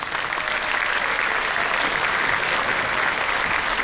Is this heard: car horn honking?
no